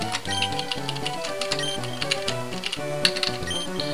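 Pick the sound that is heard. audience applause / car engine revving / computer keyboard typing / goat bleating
computer keyboard typing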